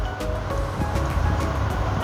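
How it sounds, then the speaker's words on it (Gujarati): Water sprayed over a buffalo during washing in a village yard, a steady broadband hiss of spray running unbroken through the moment, fairly loud and close, with no talk over it. "પછી કર્યું પાણી ચાલુ. પાણી છાંટવા માંડ્યો."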